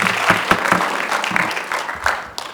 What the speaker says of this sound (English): let me remind the audience to please refrain from clapping